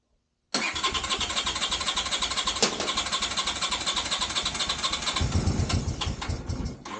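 A Honda CX500/GL500 motorcycle engine cranks and catches at about half a second, then runs loud and steady with a rhythmic pulsing idle close by, revving briefly near the end.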